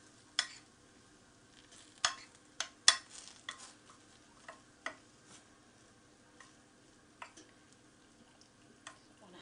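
Roasting vegetables with garlic and olive oil are stirred around a tray, producing scattered soft scrapes and clicks of a utensil over a faint low sizzle, quiet and close.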